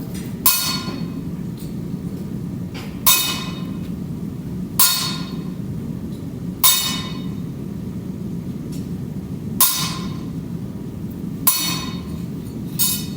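A blacksmith hammers hot steel in a hot cut and punch forging demonstration, with about seven loud, ringing blows spaced a couple of seconds apart over a low, steady background rumble, and no voices.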